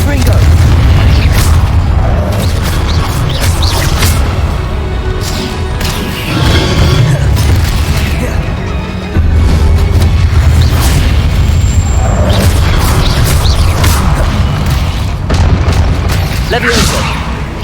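The Confringo explosion spell goes off repeatedly in the Hogwarts Legacy video game, making dense, loud booms and crashes that fill the whole stretch, with a voice heard among them.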